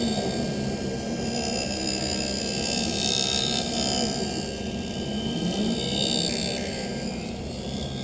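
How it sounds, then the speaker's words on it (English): A lens edging machine grinds a bevel onto a flat +1.25 reading lens for Ray-Ban 2132 New Wayfarer frames, giving a steady, loud whirring and grinding drone that runs unbroken throughout. "Now it's putting the bevel onto the lens."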